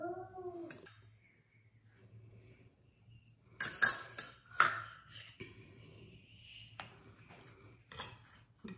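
A knife slices banana bread baked in a breadmaker, giving faint scraping cuts and a few sharp clinks of metal against a plate or pan in a quiet kitchen, with brief soft talk.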